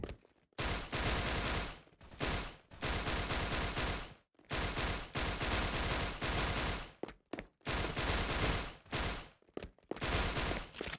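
Rapid automatic gunfire in the Indonesian first-person shooter game Wardeka Edonisia, loud sustained bursts of several seconds each separated by brief silent gaps, close and dominant throughout.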